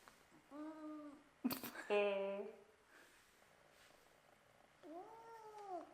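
A house cat meows indoors, a short drawn-out cry near the start and another near the end, with a sharp clatter and some rustling between them; a person talks quietly in the background.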